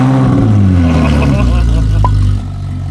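A Ferrari 458 Spider fitted with a Klein exhaust revs loudly at close range, a deep rising blare that drops back toward idle at the end, with a voice briefly audible.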